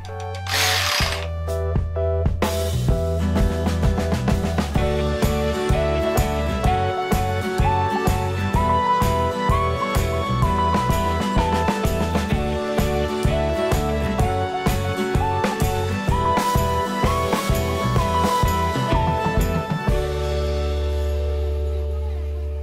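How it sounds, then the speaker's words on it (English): A power drill fitted with a large 3/8-inch bit bores into a tree branch, giving a loud, steady whirring drone with rapid pulsing chatter that runs for about twenty seconds before cutting off sharply. "I'm actually going to use a giant drill bit."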